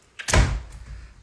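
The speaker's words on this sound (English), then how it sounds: "Okay, just quickly shut the door." A house door swings and shuts with a single solid thud followed by a short fading rattle, close and clear in a quiet room.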